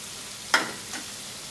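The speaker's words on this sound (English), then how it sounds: "I have to cook it in the hot oil or ghee, so the rawness of the spices and the smells go" Whole spices drop into hot oil or ghee in a very hot pan, giving a short sharp sizzle burst followed by a fainter second crackle against quiet background hiss.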